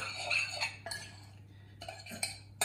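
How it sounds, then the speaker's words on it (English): A metal utensil scrapes and clinks against a bowl while mixing cooked couscous with other ingredients, giving a few soft, irregular close-up stirring taps and scrapes. "All of that goes in with your cooked couscous, like so, and mix it well."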